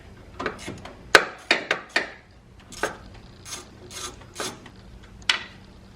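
Two screws being removed from a BMW M3/M4 S55 charge pipe, heard as a close series of short ratcheting and rubbing tool bursts with brief pauses between them, no talking.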